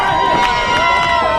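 Crowd cheering at a wrestling show at the Orleans County Fairgrounds, a steady roar of voices filling the arena while a commentator talks over it.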